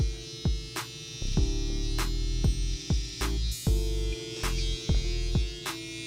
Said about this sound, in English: use my trimmer to give it more of a smoother cut